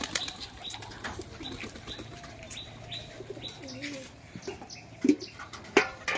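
Pigeons at a house holding about 200 birds in Nadia district coo softly and flap their wings in quick bursts, with chirps scattered through and a few sharp flutters near the end, a voice speaking faintly.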